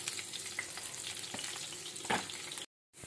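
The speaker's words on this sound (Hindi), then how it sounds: "लहसुन ऊपर रख दिया और मैं डाल दूँ ऑयल।" Chopped garlic sizzles and crackles in hot oil for moong dal, a dense, loud, steady frying hiss with small pops, ending in a brief silence and then more sizzling.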